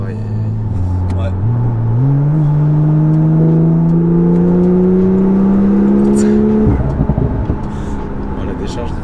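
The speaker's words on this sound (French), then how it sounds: "Oh, la décharge du turbo, c'est violent." A Porsche with over 700 hp revs hard under acceleration, its engine note climbing steadily through the gears before a sharp turbo blow-off hiss as the throttle lifts, loud and close with people talking over it.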